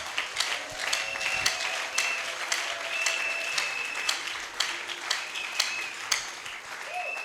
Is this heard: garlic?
no